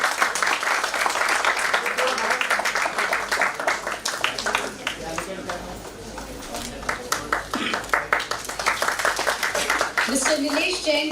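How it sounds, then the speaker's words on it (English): Audience applause at the KK Silk Mills Ltd listing ceremony at BSE, with loud, dense clapping filling the room for several seconds, under a backdrop of crowd murmur and faint voices. "Can we have a round of applause, please?"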